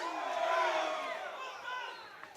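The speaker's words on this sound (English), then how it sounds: "rightly applauded by the crowd" A crowd at a chessboxing bout applauds and cheers, a steady moderate wash of clapping and voices that tapers off over a couple of seconds.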